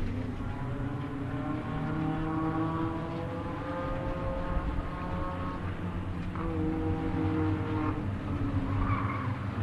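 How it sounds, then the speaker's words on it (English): Race cars roar around the Bullring, a short track at Las Vegas Motor Speedway, during reverse racing, with several engines droning and rising in pitch as they pass at a steady, loud level. "Reverse racing at its finest here at the Bullring."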